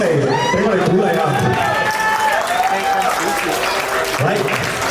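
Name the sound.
applause at a wedding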